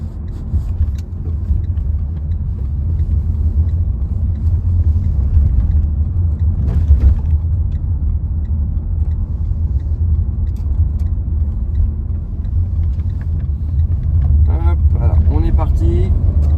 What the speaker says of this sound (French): si la ligne droite est libre, on va essayer de faire une accélération un petit peu plus franche